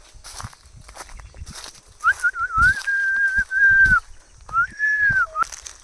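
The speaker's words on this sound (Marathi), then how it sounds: "पक्ष्यांचा चिव चिव चिव चिव असा आवाज येते" A bird whistles in long, clear, wavering phrases in Konkan forest, with two separate calls standing out over faint background rustling and soft thuds.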